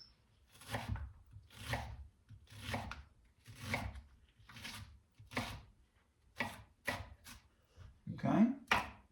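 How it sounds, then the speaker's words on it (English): Half an onion being chopped with a knife on a board, about a dozen crisp, evenly spaced cuts that quicken toward the end, close and clear with no talk. "I do have a half of an onion that we're going to chop"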